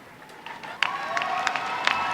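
A commencement crowd cheers and claps at a 2015 spring graduation. The sound is a distant, diffuse roar of applause with scattered whoops, steady over about two seconds.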